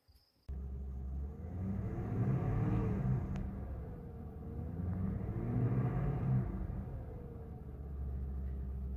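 A 2011 Ford Crown Victoria 4.6L V8 cranks and catches almost at once, then settles into a steady, close idle rumble that swells gently and eases back in slow waves, with no talking.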